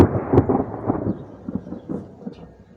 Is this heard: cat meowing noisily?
no